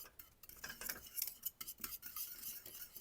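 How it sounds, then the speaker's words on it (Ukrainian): A spoon stirring butter cubes into cake cream in a bowl, with faint, close scraping and light clinks of utensil against the dish in quick irregular strokes. "Виключаю по одному кусочку додаю і розмішую добре."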